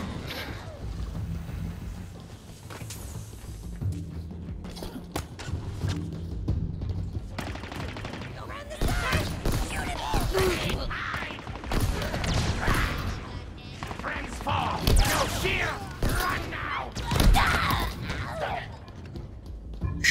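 Gunfire fills a Halo Infinite co-op match, with rapid bursts and scattered shots over a noisy game soundscape, while players talk over the action.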